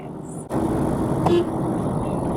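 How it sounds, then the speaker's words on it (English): A short car horn toot sounds while driving past the Chinese temple on Patong Hill in Phuket, Thailand, rising over steady road and engine noise partway through. "when you drive past the Chinese temple here on the hill, on Patong Hill, everybody honks their horn"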